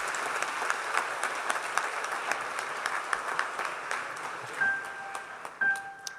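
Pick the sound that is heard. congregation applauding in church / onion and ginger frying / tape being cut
congregation applauding in church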